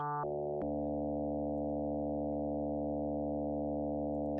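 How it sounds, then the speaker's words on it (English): A synthesizer oscillator holds a steady sine tone that drops to a lower pitch early on, then sustains evenly and loud with no voices over it. "this is the oscillator that's making the noise"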